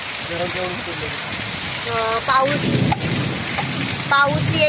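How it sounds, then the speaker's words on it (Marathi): Rain falls steadily in a pre-monsoon thunderstorm, a constant hiss of drops on surfaces under short bursts of nearby speech. "पाऊस येईल आणि आला"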